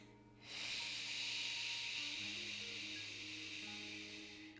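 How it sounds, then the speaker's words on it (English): A person exhales slowly and steadily with a long, breathy shh hiss, held for several seconds over a faint background drone. "As you exhale, you can hear me, perhaps I'm doing a shh sound"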